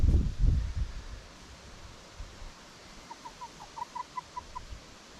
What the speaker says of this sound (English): let's go and check on the chickies